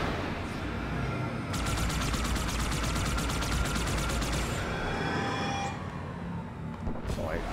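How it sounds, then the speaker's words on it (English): A weapon charging or large cannon in Halo 2, heard as a loud, rapid, evenly pulsing mechanical rattle over a dense roar, running for a few seconds before breaking off, then a short burst near the end. "I thought I heard a weapon being charged up or a big cannon or something there"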